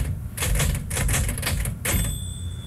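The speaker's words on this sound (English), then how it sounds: "that's about the loudness of a typewriter from across an office" Typewriter keys clatter in a quick uneven run of strikes across an office, then a carriage-return bell chimes near the end; moderately loud and a little distant.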